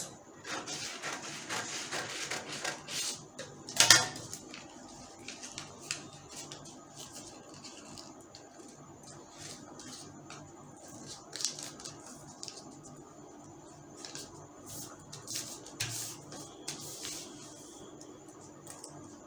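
Scissors cutting through a paper bust dart pattern for a sewing fit adjustment, a series of close, crisp snips and paper rustles, busiest at the start, with one louder crunch.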